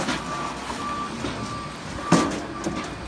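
An Allied moving van truck backs up with its reversing alarm beeping steadily over low engine rumble at moderate distance, with a sharp clunk partway through.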